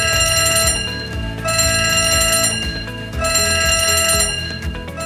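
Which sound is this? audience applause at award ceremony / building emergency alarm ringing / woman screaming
building emergency alarm ringing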